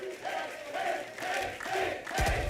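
An esports arena crowd at a Valorant match between LOUD and MIBR roars and cheers in short swelling waves, with a loud burst near the end.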